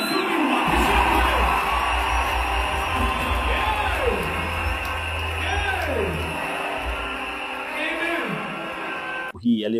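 A large crowd of young people cheering, whooping and yelling inside a church during a Thanksgiving ceremony, loud and sustained, with a voice rising over the roar and a low rumble underneath.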